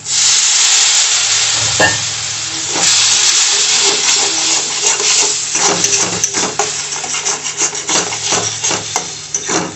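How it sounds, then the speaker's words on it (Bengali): Water poured into a hot pan of Bengali prawn curry sets off a loud, close, rushing sizzle and steam hiss, later broken by scraping, rubbing stirring strokes, with no talking. "এবার আমি একটু জল দিয়ে দিচ্ছি।"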